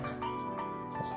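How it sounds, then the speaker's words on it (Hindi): Small birds chirp in natural surroundings in the Himalayas of Himachal, a few bright short calls standing out over steady background tones and hum, moderately close. "चिड़ियों की आवाज़"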